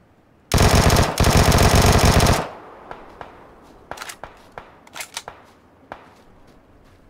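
Enemy gunfire in PUBG, a loud continuous automatic burst lasting about two seconds, then scattered sharp single shots and distant cracks at irregular intervals.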